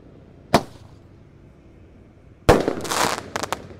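Two firecrackers burst on a Ramadan night, a single sharp bang followed two seconds later by a louder blast whose crackling and popping spread over more than a second, close by with nobody speaking.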